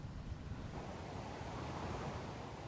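Surf rolling onto the broad sandy beach at Kujukuri in Chiba, a steady, soft wash of waves with wind noise and no voices.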